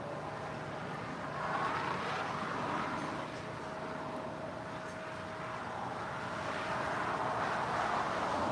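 A Boeing 787 heavy jet departs LAX from the parallel runway, heard as a steady, broad jet roar at moderate distance that swells and eases slightly while holding continuous, with no voices over it.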